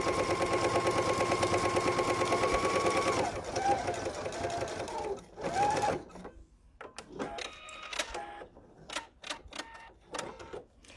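A sewing machine running steadily on fabric for a few seconds with a rapid rhythmic chatter, then stopping, followed by rustling fabric handling and scattered clicks and taps nearby.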